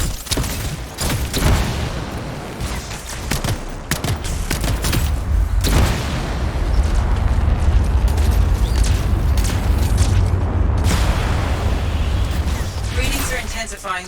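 A continuous rumbling explosion and barrage of blasts in the video game Anthem, heavy low roar with repeated sharp impacts over about fourteen seconds, with character dialogue spoken over it.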